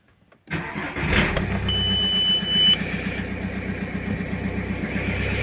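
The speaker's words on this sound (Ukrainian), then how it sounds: "Автомобіль працює і не глохне" A 2.0 TDI diesel engine in an Audi A6 cranks and catches after a short silence, then settles into a steady, close, rumbling idle with a brief high electronic beep partway through.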